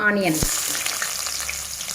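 Onions drop into hot oil with cumin and fenugreek seeds for menthi pappu, giving a steady close sizzle that continues after a short voice and a clatter at the start.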